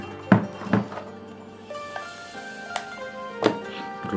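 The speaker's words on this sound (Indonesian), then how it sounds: "coba gue pasang baterai dulu ya" Several sharp plastic clicks and thunks as a battery is pushed into a compact LED video light and latched in place, close and fairly loud, with a low hum between the snaps.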